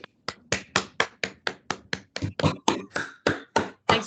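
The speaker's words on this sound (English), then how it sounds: "let us give a round of applause to those who were involved" A single person claps in a round of applause at the close of an online professional learning session, about sixteen crisp, sharp claps in a steady rhythm, close to the microphone, with no other voices.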